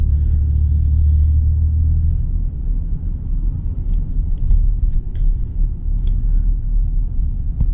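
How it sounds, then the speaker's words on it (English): A Ford F-150 Lariat pickup's engine rumbles low and steady under throttle while driving, heard from inside the cab as a constant deep drone with faint road noise. "Give it a good amount of throttle on tip-in, very smooth, very consistent power delivery"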